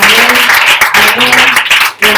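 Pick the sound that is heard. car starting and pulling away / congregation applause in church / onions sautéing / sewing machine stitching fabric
congregation applause in church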